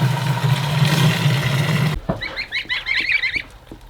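Six-day-old ducklings give a quick run of high, rapid peeps and calls once a steady motor hum cuts off, fairly close with faint scuffling between.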